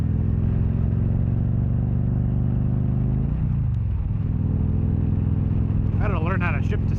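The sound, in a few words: 2013 Victory Cross Country Tour motorcycle riding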